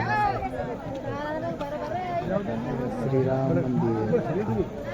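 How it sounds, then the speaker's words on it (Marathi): Dense chatter of many devotees at the Khandoba temple in Jejuri, overlapping voices close by forming a steady crowd murmur. "किती भावी भक्तांची किती गर्दी"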